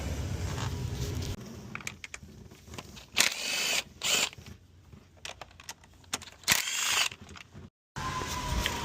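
Coil pack bolts being loosened by hand with a ratchet on a 2013 Mercedes SLK 200 engine, with bursts of close ratcheting and metallic clinks separated by pauses and handling noise.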